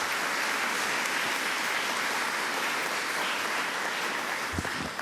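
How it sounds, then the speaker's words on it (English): Audience at a public event in Suffolk County applauding, an even wash of clapping held steady for several seconds, fairly distant and moderately loud. "Let's give everybody a round of applause."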